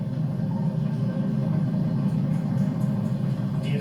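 Falcon 9 rocket engines roar steadily during launch, throttled down through the period of maximum dynamic pressure: a continuous, dense low rumble held at even loudness from start to finish, with no voices.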